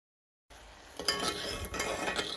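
Spoon stirring a cornstarch and water mixture in a bowl: a few soft scraping swirls and light clinks close by, quiet and brief, with no voice.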